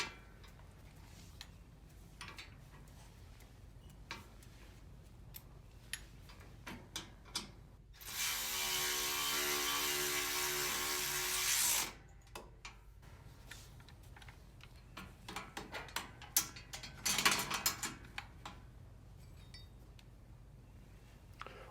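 Hex bolt on a Wright Stander X mower pedal tightened with a ratchet wrench, with quick close clicking ratchet strokes and a sustained loud grinding burst midway, then more rapid clicks.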